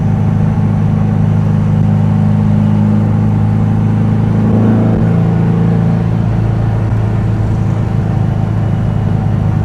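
A 1972 VW Beetle with a dual-carb engine runs at a steady idle, a continuous close low rumble with a faint whir, holding even throughout with no voices.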